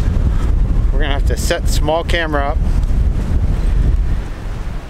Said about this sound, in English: Oh, and it's windy.